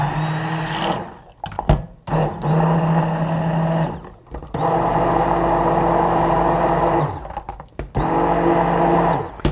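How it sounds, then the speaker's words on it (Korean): Blender pureeing cooked sweet potato and apple soup, a steady loud motor whir that runs in several bursts with brief pauses between, no talking. "이제 블렌더로 살짝 갈아줄게요"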